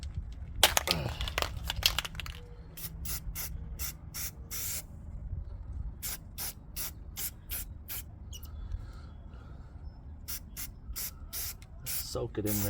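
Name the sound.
spraying rust paint from spray can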